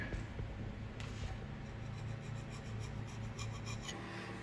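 A metal scraper rasps gasket residue off the deck of a Ford 331 stroker engine block, making faint, continuous scraping strokes close by against a low background hum.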